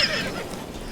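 Roach, a horse in The Witcher 3 video game, gives a short, fairly close whinny, a bright wavering neigh that fades quickly over soft background noise.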